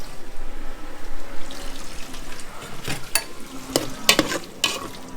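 Onions and potato frying in a pan for a Nigerian-style scouse beef stew, a continuous close sizzle broken by clanking spoon-on-pan stirring strikes toward the end, with faint water-like hiss underneath.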